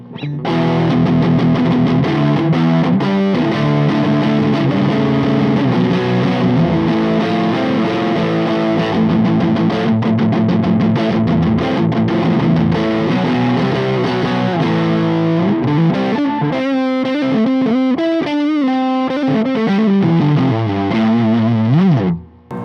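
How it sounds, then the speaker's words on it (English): Distorted Fender Mustang '69 Reissue electric guitar plays continuously and loudly with a chorus-like shimmer, strumming chords and then shifting into a choppier riff near the end. "This guitar sounds so good."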